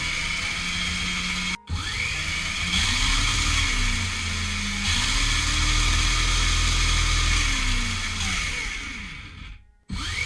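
A Raspberry Pi–controlled RC car's electric motor whines loudly and steadily in reverse, its pitch rising and falling as the gamepad throttle changes, with brief cutoffs near the start and end.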